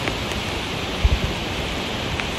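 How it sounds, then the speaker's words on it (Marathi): Steady rain falls near Dhodani waterfall, a broad even hiss with a few faint soft knocks, and no one speaks. "पाऊस पण पडतो आहे"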